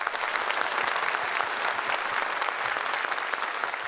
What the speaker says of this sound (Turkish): Alkışlarız bunu.